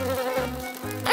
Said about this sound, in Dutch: Een vlieg?